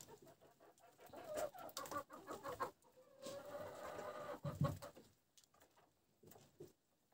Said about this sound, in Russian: Там курица другая.